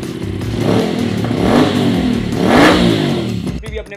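A Suzuki Hayabusa Gen 3 fitted with an aftermarket titanium full-system exhaust revs loudly and close up, its engine note rising and falling in two strong swells before cutting off sharply near the end.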